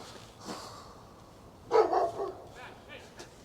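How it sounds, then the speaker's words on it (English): A dog barks a few times from the woods on a calm day before a snowstorm, short yips and barks at moderate distance over low background hum, with someone talking nearby. "There's a dog in the woods."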